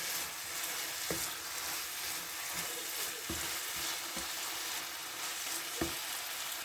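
Grated carrots sautéing in ghee for carrot halwa, a steady close sizzle with occasional sharp scrapes and taps of a spoon stirring the pan, no voices.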